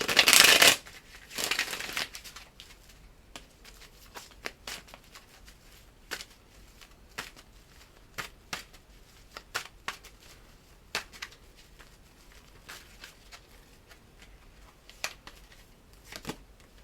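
Tarot cards being shuffled close up, a brisk riffling burst at the start followed by quiet, scattered card taps and slides in a calm room.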